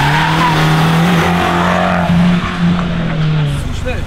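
An Abarth race car engine hums steadily on the Nürburgring Nordschleife while tires squeal in long, shrill stretches, with a voice talking over the noise.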